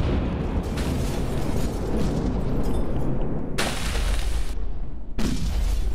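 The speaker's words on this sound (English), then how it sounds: "All cannons fire!" Cannons firing in the PC demolition game Demolition 3D, a dense, loud, continuous roar of booming blasts with abrupt cut-offs and restarts, no voices.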